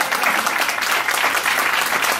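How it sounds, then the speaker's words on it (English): Audience applause at a comedy songwriting panel, steady dense clapping filling the whole stretch without a break, loud and close with no talking over it. "I don't have time for applause."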